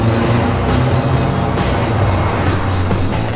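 A black Volkswagen Beetle's engine runs steadily up close, a loud, continuous rumble with a throaty low drone and no voices over it.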